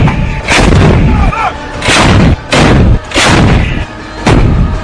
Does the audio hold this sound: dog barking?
no